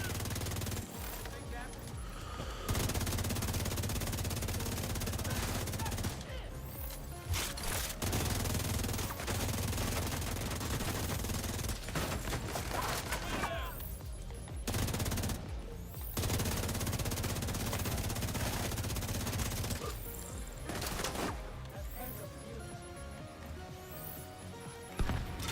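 Rifle fire from The Division 2, aimed at headshots, crackles in dense bursts across most of the stretch, loud and continuous with a few brief lulls, layered with game music and effects.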